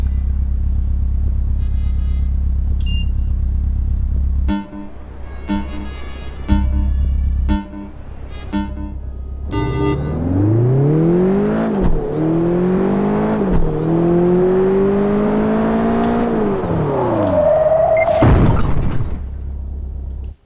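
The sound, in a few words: car engine revving while drifting, video game Project Gotham Racing 4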